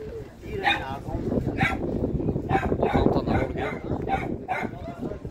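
Dogs at an open-air dog market in Khujand yip, whimper and bark in short bursts, mixed with nearby voices and general crowd bustle.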